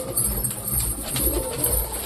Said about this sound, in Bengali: ছাদে একটু খাবার থাকলে পুরো ঘুঘু চলে আসে